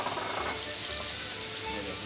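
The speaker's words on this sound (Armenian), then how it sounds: "իսկ ես հիմա տապակեմ ուրեմն" Continuous soft sizzling and crackle of frying in a pan, close and fairly quiet, steady for a couple of seconds with no clear talk.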